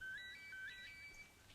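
A phone in a Telugu film scene gives a faint, high electronic ringtone of quick repeated beeping tones with no talk over it.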